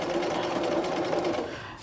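A sewing machine stitches bias tape onto a dress with a fast, even whirring hum, close and loud, running alone and slowing at the end.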